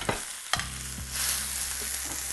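Fresh spinach goes into a big pan of cooking garlic with a couple of sharp knocks and clatters, then a broad hissing sizzle swells up and holds, close and loud.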